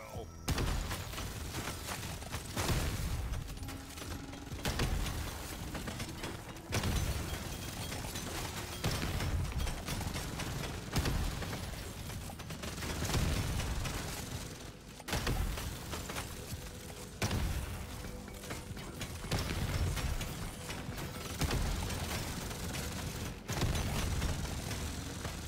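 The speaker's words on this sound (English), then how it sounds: "The Leadburster is already shooting so fast and so much. Judging by those sounds." Leadburster weapon firing rapidly in Deep Rock Galactic: Survivor, a dense stream of mechanical shots and bursts that runs steadily throughout at moderate level, broken by brief pauses.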